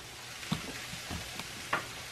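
Food crowded into an overloaded frying pan gives off a faint, low sizzle, broken by a few soft stirring clicks and scrapes. No voices are heard.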